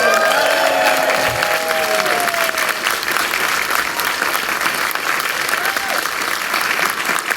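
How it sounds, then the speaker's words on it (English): A live audience breaks into sustained, loud applause welcoming Bryan Fuller, creator of the Crystal Lake Friday the 13th series, an even wash of clapping that carries on for over seven seconds with faint voices mixed in. "Ladies and gentlemen, big round of applause,"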